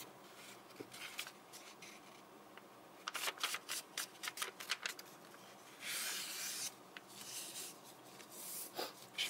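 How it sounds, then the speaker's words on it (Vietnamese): A square sheet of paper is folded in half for a paper lily, with close crisp crinkles, sharp creasing rubs and a longer smoothing swish along the fold. "các bạn sẽ gập đôi tờ giấy này lên cho mình này"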